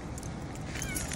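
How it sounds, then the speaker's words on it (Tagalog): A cat meows outdoors on a grassy lawn, giving a short, faint call over steady background noise. No one speaks. "May pusa pa rito."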